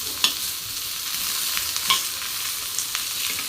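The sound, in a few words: frying onion in a pan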